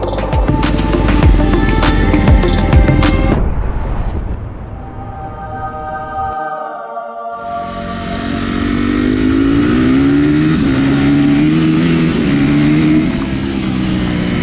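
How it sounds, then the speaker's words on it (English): A Honda dirt bike engine drones steadily while riding off-road, with a loud rough opening burst, a brief drop in level midway, then a sustained, revving note for the rest. "I started to feel more comfortable on the bike and started to really enjoy riding off-road."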